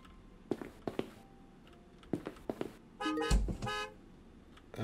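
A car alarm sounds in a snowy driveway, starting with a few sharp thunks, then a loud pulsing honk, close and alone with no talk.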